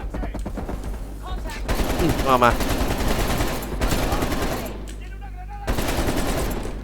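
Gunfire from the Call of Duty Black Ops Cold War video game: rapid automatic bursts and shots over a steady low rumble, with someone talking through much of it.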